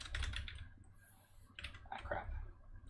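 Rapid typing on a computer keyboard, clusters of close key clicks in short bursts with brief pauses between them, heard without talk.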